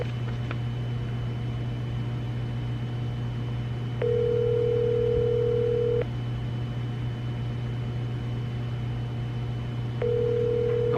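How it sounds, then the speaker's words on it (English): Phone call to a homeowners association office: a steady dial tone hums throughout while two ringback tones sound, one long ring midway and another starting near the end, with no talking. "we're gonna give her a call"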